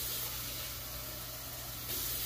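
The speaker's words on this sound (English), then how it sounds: "some water in the bottom to steam it." Water pours steadily into a pot holding about a pound of cauliflower, a continuous close hiss and splash that swells slightly near the end, with no talking.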